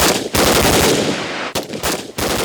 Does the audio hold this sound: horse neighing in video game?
no